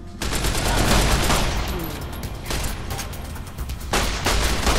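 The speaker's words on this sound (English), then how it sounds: "Stop shooting me for a minute, miss." Enemy gunfire in Fallout: New Vegas during a cavern fight: loud, rapid bursts of shots and booming impacts in a near-continuous barrage, with two short pauses between volleys.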